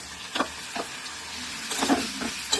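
Prawns hitting a hot pan of cooked pumpkin and frying, a steady sizzle broken by a few sharp spatters and stirring scrapes, close and alone without any voice.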